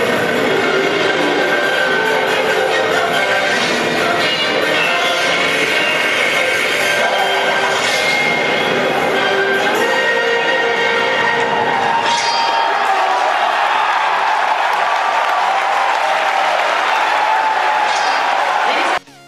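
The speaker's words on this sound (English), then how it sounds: "some of the biggest announcements that had the crowd going wild" E3 audience erupting over game announcements, a roaring wall of cheers, whoops and applause sustained for nearly twenty seconds, with loud excited voices and bursts of shouting layered throughout.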